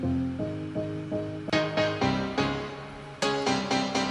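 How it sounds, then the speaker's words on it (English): Nexus "Piano Dance Piano 2K17" sampled dance piano playing a deep house chord pattern, loud repeated stabs in a steady rhythm with a brighter, fuller section midway, alone with no voices. "It's called Piano Dance Piano"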